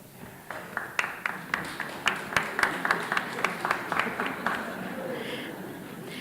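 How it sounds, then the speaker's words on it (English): Audience applause at an academic excellence awards ceremony: a run of distinct, fairly steady claps builds and continues for several seconds, then fades into a softer wash of clapping near the end. "give them a round of applause, please"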